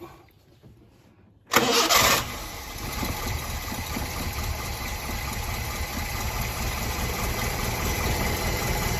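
A Nissan 1400 engine cranks and fires up abruptly after a short quiet moment, then settles into a steady, loud idle with a constant rumble that slightly builds.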